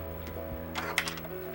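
An old sewing machine runs briefly while top stitching the shoulders of a small doll turtleneck shirt, a steady motor hum with light mechanical ticking, close and fairly quiet.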